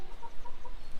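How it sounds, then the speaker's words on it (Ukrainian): Small young chickens clucking in a mountain farmyard, a few soft, short clucks repeating in an uneven rhythm at close range. "То наші маленькі кури"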